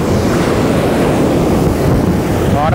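Forceful sea waves surge and crash onto a sandy shore in a continuous, loud roar mixed with heavy wind buffeting, with a brief hint of a voice at the very end.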